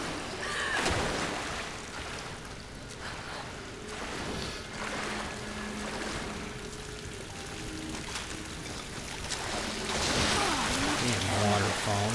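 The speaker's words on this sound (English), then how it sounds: "Damn, waterfall, not cool," A waterfall in the Tomb Raider video game rushes as a continuous broadband wash of water, steady and fairly loud, swelling toward the end, with scattered game effects mixed in.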